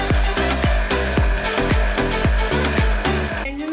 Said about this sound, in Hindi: आपने इसको ब्लेंड करना है